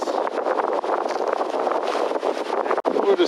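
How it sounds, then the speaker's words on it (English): Strong highway wind of about 25 knots buffeting the microphone in a continuous, loud rush, with gusts rising and falling and a brief dropout near the end. "It has been windy today."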